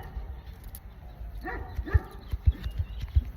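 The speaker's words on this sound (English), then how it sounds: "I'm hearing my dog bark right now" A dog barks a few times in short sharp bursts from a little distance, over a low background rumble with no one speaking.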